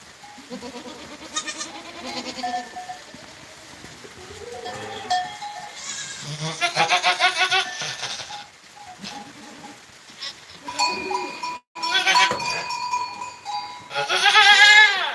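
Goats bleat repeatedly on a farm where a nanny has just given birth, wavering cries coming in bursts at close range, with a cowbell clinking and quieter stretches between calls.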